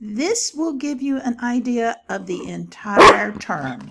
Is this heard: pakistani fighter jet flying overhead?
no